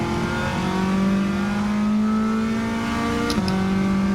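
Modified Toyota S-FR engine revving hard on a track, a loud sustained high drone that holds steady, dips briefly at a gear change and picks back up, heard from the cabin without talk.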